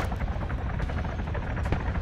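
A Huron helicopter in ArmA 3 lands close by, its heavy rotor thumping in a steady, dense roar that fills the whole moment.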